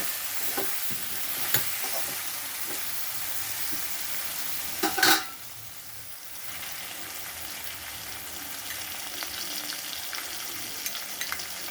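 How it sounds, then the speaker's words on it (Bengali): Flat beans fry in a pan with a steady, hissing sizzle, broken by a few scraping stirs and a louder clatter as they are turned. "আমি এটা উল্টে দিলাম দেখুন দু মিনিট হয়ে গেছে একটু ভাজা ভাজাও হয়ে গেছে"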